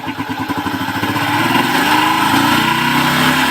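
A carburetted motorcycle engine runs while its idle screw is turned, starting with a choppy, pulsing idle and then climbing to a steady, louder, higher-pitched hum, loud and close.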